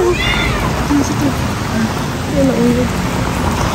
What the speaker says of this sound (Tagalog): kusog ng ulan ay